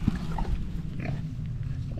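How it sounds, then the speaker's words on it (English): Pigs grunting outdoors during a wet hike along the Roaches in the Peak District, low snorts and grunts repeating close by over steady wind and rain noise. "Me and the pigs."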